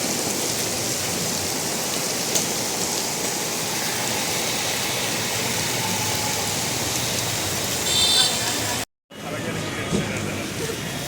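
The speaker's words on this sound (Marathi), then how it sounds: "पाऊस चालू झालेला आहे" Steady rain, heard from a bus, hisses and patters on surfaces, with traffic rumbling faintly underneath and a brief break near the end.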